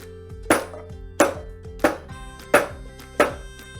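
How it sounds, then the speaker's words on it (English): A meat tenderizer pounds pieces of beef flat in five sharp, evenly spaced thuds, each one loud and close and followed by a brief ringing decay, with no voices. "Then I'm going to flatten it out with a meat tenderizer."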